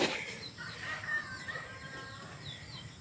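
A small flock of chickens at a former pig farm outdoors, giving a few faint, scattered clucks against quiet open-air background noise.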